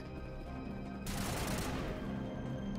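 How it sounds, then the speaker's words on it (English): Gunfire in the Mass Effect video game, a short dense burst of rapid shots erupting midway and quickly fading back under a steady background. "And here again with the shooting."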